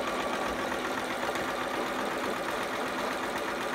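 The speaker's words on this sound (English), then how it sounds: "I'm going to back stitch and then sew all the way along that edge." A sewing machine runs a zigzag stitch along a fabric edge, giving a steady, continuous mechanical whir close by with no breaks and no talk.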